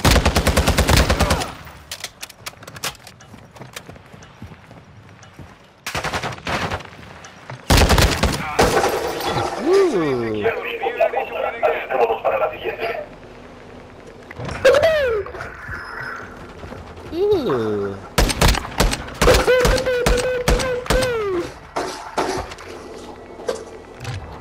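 Video game gunfire, loud close bursts of rapid automatic shots in several volleys separated by short pauses, with someone talking in between.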